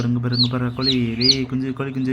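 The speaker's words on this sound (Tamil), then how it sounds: "கோழி குஞ்சு." Newly hatched country chicken chicks give high, rising peeps several times over a person speaking close by.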